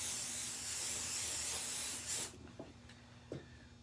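A spray onto a candy mold gives a steady, close hiss lasting about two seconds before stopping sharply, followed by a few soft clicks and taps.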